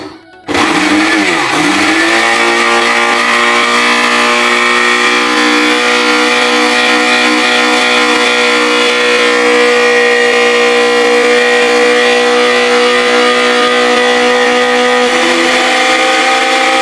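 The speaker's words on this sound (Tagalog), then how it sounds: "Pwede pala siya sa blender." A blender grinding moringa into powder whirs loudly and steadily for the whole stretch after a brief spin-up, its motor holding a constant high-pitched drone.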